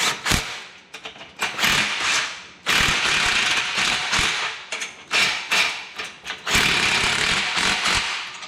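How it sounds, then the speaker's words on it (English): A hand ratchet tightens bolts on a motorcycle rack carrier for a camper, producing close, loud bursts of rapid clicking in repeated strokes separated by short pauses. "I'll grab a ratchet and go through and tighten them down that way."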